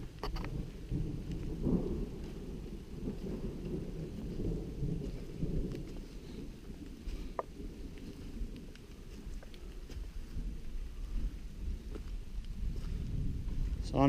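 Low, rumbling thunder rolls in the distance beneath a soft, steady patter of rain on the Pinhoti Trail at McDill Overlook, with no clear sharp cracks.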